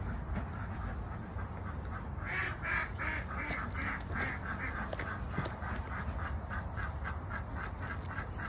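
Farm ducks quack in repeated short calls at a moderate distance over a constant broadband background wash, with no talk, the calls loosely spaced and fairly faint.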